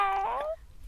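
A single short cat meow, close and clear, with a rising then falling tone lasting about half a second before quiet.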